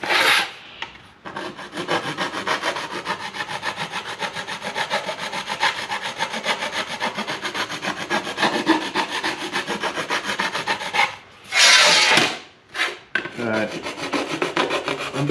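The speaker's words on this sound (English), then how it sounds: "I'm being pretty careful with this file. I don't want to put a big flat spot in it." Hand file scraping and deburring the edges of a metal sheet, with a continuous close rasp of steady strokes that drops out briefly near the end before resuming.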